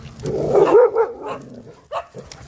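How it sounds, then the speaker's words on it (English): Dog barking outdoors with other dogs around: a short burst of bark-like yips, then a single sharper bark a moment later, fairly near and moderately loud, with no talk. "There are other dogs around. There might be barking"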